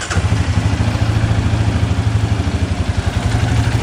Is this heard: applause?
no